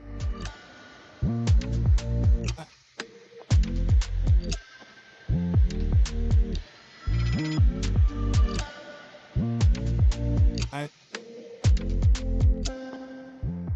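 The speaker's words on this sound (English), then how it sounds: "let's do some 3D printing and put this machine to the test" A Longer LK5 Pro 3D printer runs a test coin print in marble filament, its stepper motors whining in fast tonal bursts and pitch sweeps broken by brief pauses and clicks, close and clear without speech.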